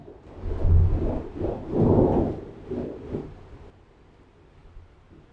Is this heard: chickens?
no